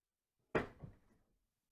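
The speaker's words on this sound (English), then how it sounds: "Let's open up these latches." A single sharp latch snap on the case of a VEVOR 450-piece mechanics tool and socket set, followed by a softer second click and a brief rattle, close and alone with no talking.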